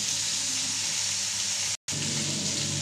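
Potato pieces fry in a pan with a steady, close sizzle and hiss that cuts out for a split second before resuming.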